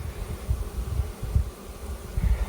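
Honey bees humming in a crowded hive with a full box of bees and brood stacked on top, a steady low drone that swells and dips close by, with no talking.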